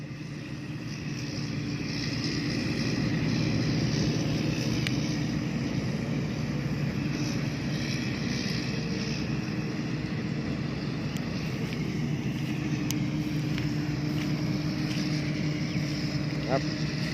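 Steady low engine rumble of a combine harvester harvesting rice, droning continuously with some wind noise over the top.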